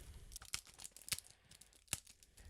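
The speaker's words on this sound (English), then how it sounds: "It's funny how difficult simple tasks like opening cellophane become when you're recording yourself on video." Cellophane wrapping on a Gears of War card game box is torn and crinkled open, giving quiet close rustles and a few sharp crackling rips, with no talking.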